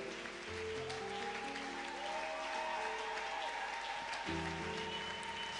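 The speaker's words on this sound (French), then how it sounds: "Sous nos acclamations, ils vont reprendre leur place ensemble et nos cris de joie." A church congregation in Kasavubu applauds and cheers for a couple, a continuous wash of clapping under sustained musical tones, with a brief lull and swell near the end.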